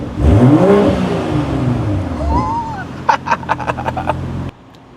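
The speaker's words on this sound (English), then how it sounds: "if you rev up the engine, it sounds like this" A parked BMW M340i Touring's inline-six petrol engine blips loudly at close range, swelling and falling, then crackles in a quick series of sharp pops before cutting off.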